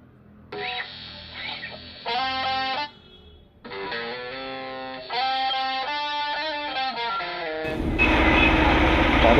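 Darjeeling heritage steam toy train running, heard as loud harmonic whistle-like tones in bursts, then a swelling broadband roar and hiss of steam and machinery toward the end, close by with no talk.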